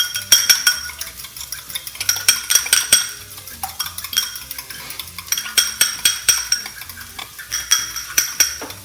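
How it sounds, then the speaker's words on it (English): A fork or whisk beats eggs in a bowl for an omelet, clinking in quick rhythmic bursts against the sides, loud and close, with short pauses between runs. "I'm just going to beat that egg up."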